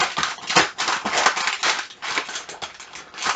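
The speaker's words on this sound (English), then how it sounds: "I'm going to cut this bag" Scissors cut open a paper flour bag with a quick run of close, crisp snips and crunching rustles over a few seconds, with no speech.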